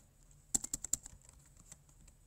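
Keystrokes on a computer keyboard while typing HTML into Google Docs: a quick burst of about five or six sharp clicks, then lighter scattered taps fading out, close and alone.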